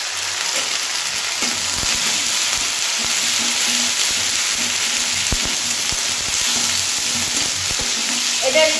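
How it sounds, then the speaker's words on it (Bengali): Ginger paste sizzles and fries steadily in hot oil in a pan while being cooked for a tilapia jhal, a continuous close hiss with occasional stirring taps and no talking. "এটা একটু কষিয়ে নেব। এখানে 1 চা চামচ আদা বাটা"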